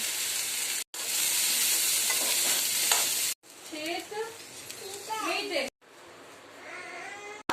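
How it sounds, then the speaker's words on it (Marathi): Asafoetida and cumin sautéing in hot oil for a raw banana curry, a steady loud sizzle broken by brief gaps, with someone talking over the later part. "थोडासा हिंग हे लगेच परतून घेतलं म्हणजे काळं नाही करत आता परतून घेऊया"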